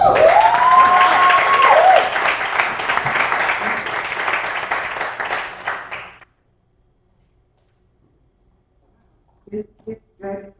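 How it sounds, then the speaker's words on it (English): An audience at a live poetry reading claps and cheers after a poem, a dense burst with a whoop at the start that tapers off, then silence before a voice speaks briefly. "Another round of applause."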